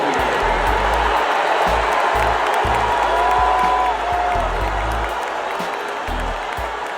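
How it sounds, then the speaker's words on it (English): Stadium crowd noise as basketball player Sophie Cunningham checks into a game, a steady mixed roar of cheers, applause and boos under a public-address voice, loud and sustained. "it's drawn a mixed reaction from the crowd. Some people welcomed her, some people booed her"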